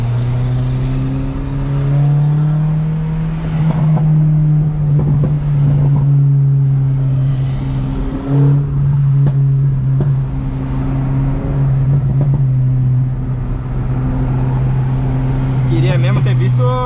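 A Renault Sandero RS accelerates hard, its engine note climbing in strong sustained pulls with a brief shift break midway, loud and close, while someone talks over it throughout.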